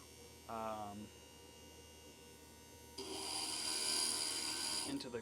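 A stained glass grinder with a wet sponge-fed head: a low electric motor hum at first, then a steady, close, gritty grinding rasp as glass is pressed against the bit.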